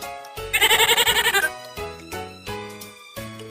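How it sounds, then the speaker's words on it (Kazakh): A goat lets out one long, wavering bleat with a quick tremolo, loud and close, followed by a few shorter clean tones. "Ешкі."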